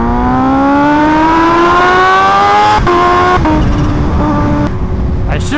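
A sport motorcycle engine sings loudly while riding, its pitch climbing steadily before shifting down in steps, with brief gear-change breaks and a rushing road and wind backdrop.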